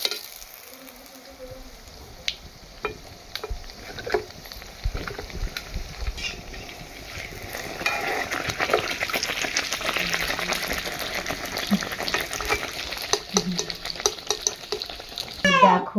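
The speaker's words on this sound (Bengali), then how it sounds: "পাপড় ভাজি দিচ্ছি" Papad, crisp lentil wafers, frying in a pan at home, soft crackling and stirring scrapes that build into a busier sizzle midway, with scattered clicks and knocks.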